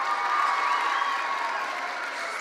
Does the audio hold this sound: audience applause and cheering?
yes